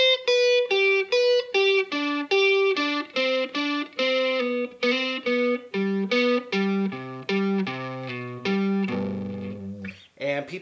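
Distorted electric guitar plays a blues lick of rapid, evenly picked repeating notes that descend steadily, then ends on a sustained bent chord and a short scrape, loud and alone.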